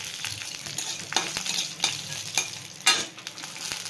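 Tempering spices crackle and sizzle in hot oil in a wok, a close, steady frying hiss broken by sharp pops and occasional stirring scrapes, with no talking.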